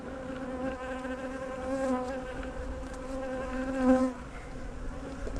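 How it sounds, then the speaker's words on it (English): Steady buzzing of many honeybees close by, a continuous droning hum with a brief louder swell as one passes near. "the bees are going down there with her"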